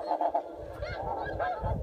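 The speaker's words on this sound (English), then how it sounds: "There's blue geese." Flock of blue geese and speckled-belly geese honking steadily during a goose hunt, a dense chorus of overlapping calls kept up without break.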